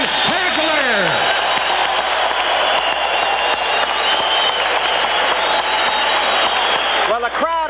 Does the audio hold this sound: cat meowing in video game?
no